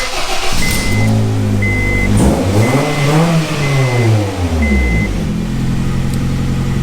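A small 109-horsepower car engine revs up and down repeatedly, its exhaust droning and rising in pitch, loud and close with a steady idle beneath.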